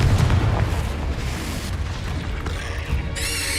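Confringo fire-blast spell in Hogwarts Legacy: a heavy, booming explosive burst with deep rumble, fading into crackling debris and a bright whooshing tail near the end.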